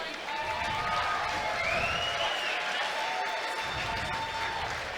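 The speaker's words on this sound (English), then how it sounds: "a big round of applause for these 2 fighters" A fight-night crowd at an amateur combat championship applauds and cheers the two fighters after a bout, a broad, continuous wash of clapping and crowd noise with a faint announcer-like voice mixed underneath.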